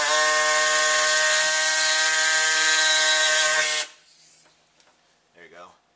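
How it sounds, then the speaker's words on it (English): A small air saw cuts through a brake line on a 1978 GMC C2500, giving a loud, steady high-pitched whine for about four seconds before it cuts off abruptly, followed by faint movement and a brief voice. "So I'm just going to go ahead and just cut the line right away with this little air saw."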